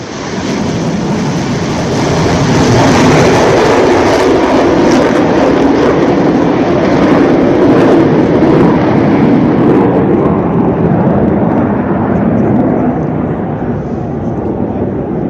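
An Indian Air Force MiG-21 fighter jet roars past at Chandigarh airbase, a loud broadband engine rumble and whoosh that swells, holds and tapers slightly toward the end.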